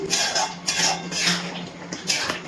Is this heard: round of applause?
no